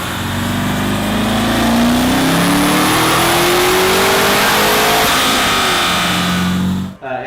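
A Hennessey HPE1200 Camaro engine running hard on a dyno, loud and close, pitch climbing steadily in one long sustained rev before cutting off abruptly near the end.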